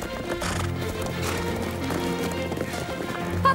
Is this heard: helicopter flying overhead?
no